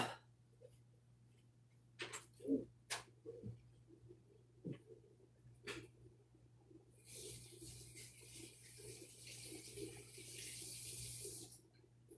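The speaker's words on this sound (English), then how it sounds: "I'm gonna go wash my hands real quick" Tap water running into a sink for hand washing indoors, starting after several faint knocks and clicks and then pouring steadily and loudly for the last few seconds, with a low hum beneath.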